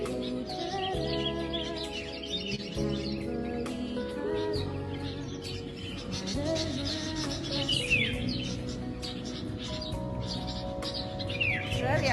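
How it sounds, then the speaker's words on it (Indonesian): Birdsong played back from a video during a church sermon: continuous chirps and tweets layered over a dense, steady background that fills the whole stretch at moderate volume. "Saudara lihat enggak? Burungnya nyanyi."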